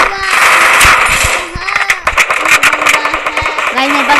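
Rapid automatic gunfire in the video game Free Fire, loud bursts of shots crackling throughout with engine noise mixed in, while a player talks over it.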